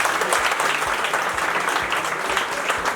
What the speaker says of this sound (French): je voudrais que vous applaudissiez très fort